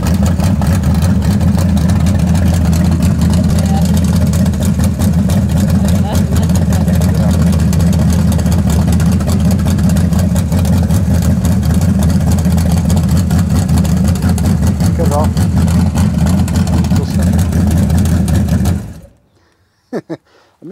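A turbocharged Chevy Nova engine idles loud and close with a steady, rough mechanical drone that runs unbroken for about nineteen seconds before cutting off abruptly into near silence.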